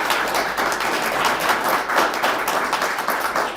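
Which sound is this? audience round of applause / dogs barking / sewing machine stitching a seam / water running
audience round of applause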